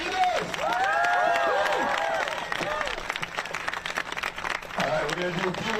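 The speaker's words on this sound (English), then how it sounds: "Let's have another immense round of applause for Professor Ryan Enos." A student protest crowd at Harvard applauds Professor Ryan Enos, with loud clapping, cheers and whoops from many people that taper off toward the end, where voices rise over the fading applause.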